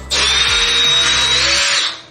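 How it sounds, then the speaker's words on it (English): A power drill bores a pilot hole into a wall for mounting a rollerless toilet paper holder, a steady close, loud whining burst of about two seconds that spins up and winds down, with no talk. "The reason I make a pilot hole is to just make sure I'm not going to hit any obstructions back there with a big drill"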